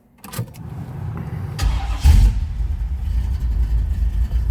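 A 1971 Chevrolet Nova with a ZZ4 crate engine and a mild cam cranks over briefly, catches with a loud burst, then settles into a steady, slightly lumpy idle close by.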